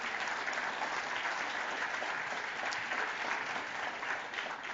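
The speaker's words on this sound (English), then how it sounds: "I think we should all stop and give ourselves a round of applause for that" Dense, even applause fills a conference keynote hall at a Magento event in New York, a steady wash of many hands clapping throughout with no pauses.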